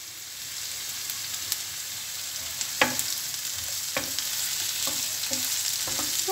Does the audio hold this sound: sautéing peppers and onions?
yes